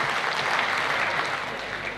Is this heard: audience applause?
yes